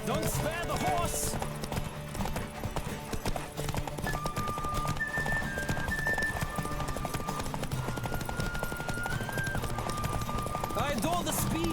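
Galloping hooves from a horse in The Witcher 3 beat a fast, steady clip-clop, with a whinny or two, layered under game music and speech.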